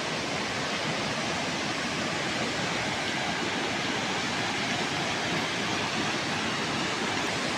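A river in the Philippines flows far below a high hanging bridge, making a steady, dense rushing roar that stays even and unbroken throughout, with no voices.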